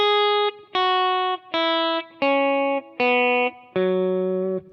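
Clean electric guitar lick stepping down a scale: six sustained, ringing notes, each struck separately and held about half a second before the next, with a faint effects-unit shimmer and no other sounds.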